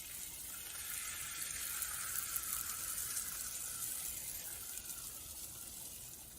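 Beaten egg pours into a hot pan over cooked soyrizo and sizzles, a steady close hiss of frying with no talk.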